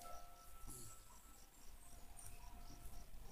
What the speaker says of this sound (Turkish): Cırcır böceği sesi geliyor lan.